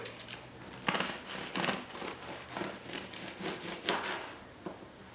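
A knife cutting open a fresh mini bread loaf just out of the oven, a series of quiet crusty sawing and crackling strokes at a close, soft level.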